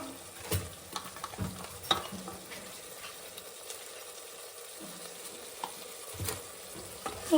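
Masala with coriander powder and garam masala fries in a pan, a faint steady sizzle broken by occasional soft scrapes and taps of a stirring spoon, close but quiet and without talking.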